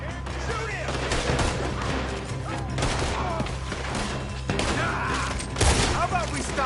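Gunfire during a firefight in Red Dead Redemption 2, with repeated shots and booms over a dense, noisy battle background, voices shouting intermittently throughout.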